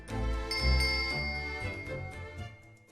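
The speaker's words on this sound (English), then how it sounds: "You pull the rope and ring the bell, then a servant appears." A hand bell rung by pulling a rope in The Great Ace Attorney video game, with bright, layered chimes and a shimmering tone, tones overlapping and slowly fading over a few seconds.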